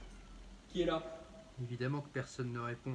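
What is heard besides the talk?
pet cat meowing in the room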